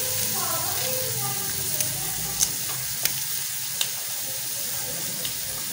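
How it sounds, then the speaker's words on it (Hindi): Tomatoes and green chillies frying in a pan for an aloo gajar dish, a continuous close sizzle with a few light utensil taps. "ये सब्ज़ मिर्चें भी डालूँगी काट के, साथ साथ इसको भूनना है।"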